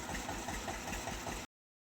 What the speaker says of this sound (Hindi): अपना 1 सिलेंडर का ट्रैक्टर है